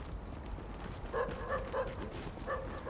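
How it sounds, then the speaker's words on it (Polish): Several dogs bark in short, repeated yaps at moderate distance, a handful of barks in quick succession over a quiet background in a post-apocalyptic New York shooter setting. "To te nasze psy nie są?"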